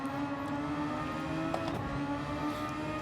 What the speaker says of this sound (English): these are Japanese Super Formula cars